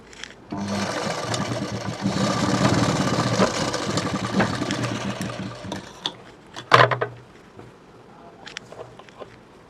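An electric sewing machine runs a steady, fast stitching whir for several seconds as it sews the shoulder seam of a prince-cut blouse, then slows and stops, followed by a few clunks and handling sounds.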